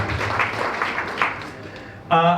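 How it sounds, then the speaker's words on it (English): Audience applause for the hosts at the Fitzies in Waterford during a business breakfast. A steady wash of clapping fills most of the moment before a voice cuts in near the end. "I'm going to have another round of applause for our fabulous hosts at the Fitzies at Waterford"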